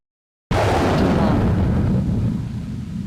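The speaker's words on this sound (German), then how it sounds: "An explosion shakes the ground." An explosion in the video game Monster Girl Quest destroys a mermaid pub. After brief silence a loud, deep boom bursts in and rolls into a sustained, rumbling roar that slowly fades.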